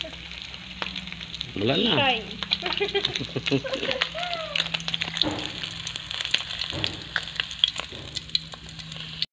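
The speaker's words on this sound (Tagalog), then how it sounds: "Tapos na iprito yung hito." Catfish (hito) frying in hot oil makes a continuous crackling sizzle with sharp pops throughout, while voices talk briefly over it early on.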